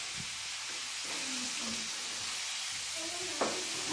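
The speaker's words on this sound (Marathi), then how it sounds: "आता आपण याला हलवून घेऊ." Coarse whole-chilli chutney fries in a pan while being stirred, giving a continuous bright hiss with a few scraping spoon strokes and a sharper clatter near the end, no voices.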